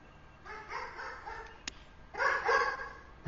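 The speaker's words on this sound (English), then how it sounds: "Them dogs are... barking." Dogs in the golf video game PGA Tour 2K21 give two short bursts of barking and yipping, a brief one then a louder, longer one, with a sharp click between them.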